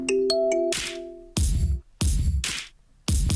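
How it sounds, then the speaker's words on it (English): A kalimba sample from the Contact Factory library plays a bright plucked arpeggio, followed by several loud, wide, reverberant chord stabs about a second apart. Nobody speaks. "this is a kalimba from the Contact Factory library"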